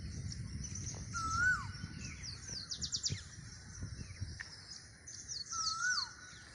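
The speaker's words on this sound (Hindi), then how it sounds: "यह है कोयल की आवाज़," An Asian koel calls in a village farm field, a few clear rising whistled notes standing out over a dense chorus of chirping birds and rustling outdoor ambience.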